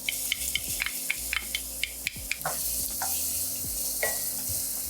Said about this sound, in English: we're gonna put in some of that garlic that we minced